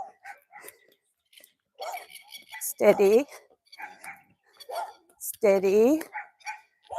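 Dogs bark and snarl in a fight nearby on a suburban road, two loud bursts of barking separated by quieter sounds, while a rider speaks softly to a horse.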